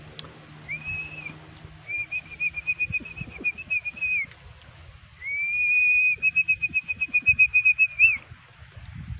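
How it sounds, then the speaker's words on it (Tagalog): A person whistles long, steady sustained notes, two drawn-out tones with a pause between, over rustling and wind-like background noise. "gawin nyo lang sumipol katulad nito"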